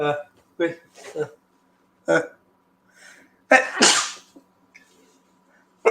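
Brief speech fragments, then a loud sneeze burst close to the mic, followed by quieter breathing and stray noises.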